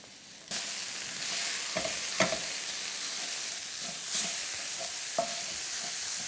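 Spices and ginger fry in a hot pan for Goan-style curried mussels. A steady, close sizzle is broken by a few short clinks and scrapes of stirring.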